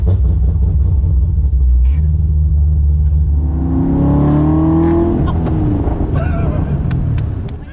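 A turbocharged Pontiac Solstice with an LS3 V8 rumbles loudly up close, its engine note climbing through a rev before settling, with voices talking over it.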